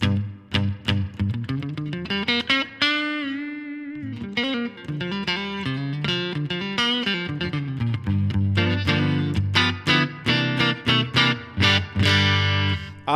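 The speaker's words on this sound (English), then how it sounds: "there's definitely some boinginess in the reverb" Yamaha Pacifica Standard Plus electric guitar with heavy effects, strummed and plucked notes ringing out with a bouncy, springy reverb tail, played alone and loud.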